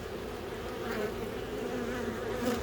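Dense, steady buzzing of honeybees inside an open hive, a close continuous drone with no speech over it.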